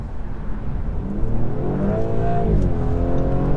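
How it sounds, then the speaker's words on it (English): Stage 1 Audi S4 with a remapped gearbox pulling hard, the engine note dipping then climbing steeply in pitch as it surges, a loud, close, continuous roar from inside the car with no talking. "this gearbox has definitely been remapped because it's downshifting all the way to the lowest possible gear"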